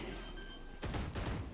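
Bursts of Valorant gunfire during a professional esports match break in abruptly after a steady hum, several rapid loud shots in quick succession.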